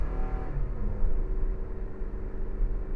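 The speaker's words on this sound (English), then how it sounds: "I'm going to give it full blast here. You'll hear the car accelerate." A 2019 Toyota RAV4 Adventure with a 203-horsepower engine accelerates hard at full throttle uphill, a steady low rumbling drone with a rising engine note that stays close and even throughout.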